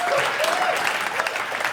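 A comedy club audience applauds in a steady burst of clapping, close and fairly loud, lasting under two seconds with no talk on top.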